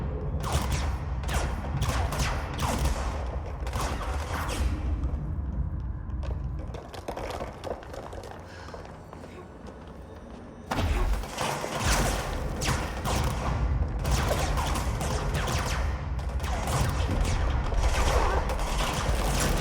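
Enemy gunfire in the video game Control, rapid bursts of shots crackling in dense volleys, easing briefly before resuming loud and continuous.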